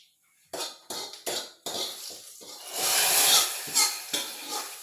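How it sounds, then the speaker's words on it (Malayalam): Mustard seeds frying in a pan for tempering, giving a sharp crackling sizzle that starts in short bursts and then swells into a steadier spitting hiss, close and with no talk. "ഇതിനകത്തിട്ട് കടുവും കൂടെ വറുത്ത് കത്തിച്ച്"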